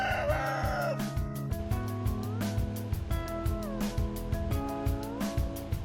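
Several crows from Cruceño roosters, free-range birds raised on cereals and greens, ring out one after another over a busy backdrop of clucking and other farmyard fowl, steady and fairly close.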